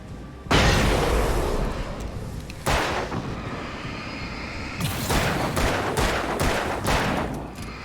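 Heavy bursts of gunfire and a loud flash grenade blast fill the Alan Wake video game, with sharp repeated shots and booming impacts close and loud, and no talking.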